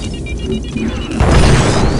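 Detonator charge blowing open a door in the Star Wars: Republic Commando video game, a deep booming blast that swells and rolls out after a brief mechanical lead-in.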